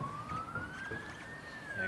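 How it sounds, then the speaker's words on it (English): A police siren wails steadily as it passes near a lawn bowls green during a men's country carnival match, its rising and falling tone sustained throughout under a low background murmur. "As the second siren goes past, Isaac"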